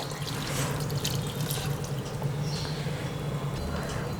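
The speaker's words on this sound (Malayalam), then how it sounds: "നല്ലതുപോലെ വെള്ളം ചേർത്ത് കൊടുക്കുന്നുണ്ട്" Water splashes and trickles steadily into a pot of chicken curry, a continuous pouring sound with some small drips, fairly close.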